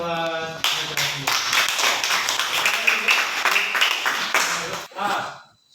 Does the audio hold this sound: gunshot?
no